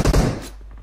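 A short, loud burst of PUBG Mobile gunfire: a quick cluster of sharp shots right at the start, trailing into a fading rumble.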